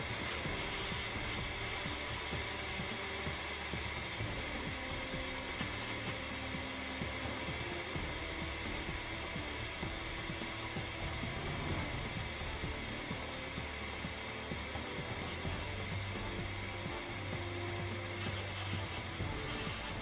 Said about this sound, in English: The cold gun instantaneously produces cold air from an ordinary compressed air source.